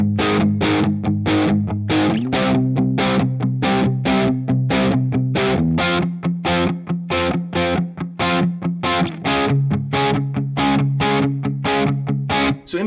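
Electric guitar playing the verse of a song, a steady, evenly strummed chord pattern with rhythmic chops. Loud and close, with a slightly driven tone and no voice.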